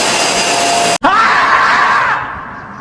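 A vacuum cleaner drones loudly in a kitchen, then a sharp click cuts in and the motor's whine rises in pitch before the sound fades and quiets.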